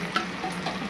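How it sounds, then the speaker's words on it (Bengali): Cashews and spices lightly frying in a pan for a katla fish rezala, giving a soft, steady sizzle with faint stirring scrapes throughout, heard alone at low volume. "সমস্ত কিছু একটু হালকা ভেজে নেব।"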